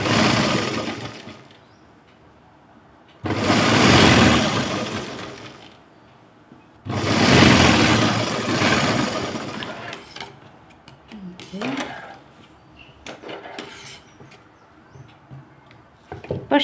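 A sewing machine stitches a blouse for tailoring, running a centre seam on a one-inch fold in three loud, steady bursts separated by pauses, with a voice talking quietly in the later gaps.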